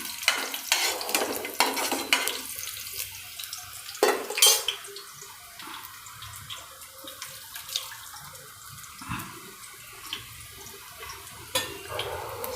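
Curry leaves and green chilies fry in hot oil for thepla chevdo, crackling and popping in bursts while a spoon scrapes and stirs the pan intermittently, fairly close.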